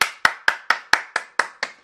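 Eight quick hand claps in an even, brisk rhythm, sharp and close, with nothing else heard.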